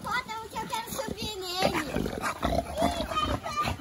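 A dog at a kennel of muscular bully-breed females: barks and growls come close, mixed in with steady overlapping human talk, including a voice, throughout.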